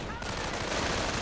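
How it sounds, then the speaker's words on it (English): Rapid rifle fire from riflemen in a World War II real-time strategy game, a dense continuous burst of overlapping shots that fills the whole short moment at loud, close range. "Rifleman firing from there."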